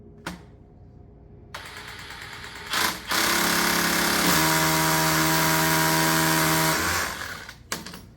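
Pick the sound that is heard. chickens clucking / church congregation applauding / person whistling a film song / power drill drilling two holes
power drill drilling two holes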